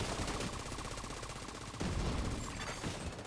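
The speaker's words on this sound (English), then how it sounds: "My grenade launcher." Rapid bursts of grenade launcher fire in a video game, a dense rattling stream of reports with a renewed volley midway, steady and moderately loud with no talk.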